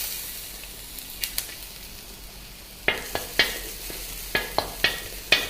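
Garlic pieces fry in a teaspoon of oil in a hot wok: a soft sizzle at first, then a run of sharp scrapes and clacks from stirring, close and fairly loud.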